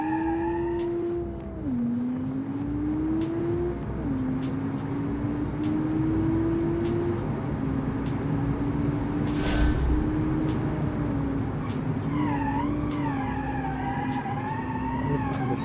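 A sport hatchback is driven hard around the Road Atlanta circuit with traction control off, its engine climbing and shifting through gears at steady loud volume, while tires squeal in long rising whines near the end.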